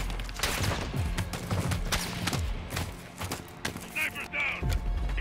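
Sniper gunfire in the Call of Duty: Modern Warfare II campaign, a string of sharp shots cracking over a dense, busy battle backdrop, with excited voices talking over the action.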